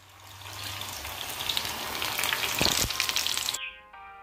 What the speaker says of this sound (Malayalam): പിന്നെ മീഡിയം ഫ്ലെയിമിലിട്ട് നന്നായിട്ട് വറുത്തെടുക്കാം.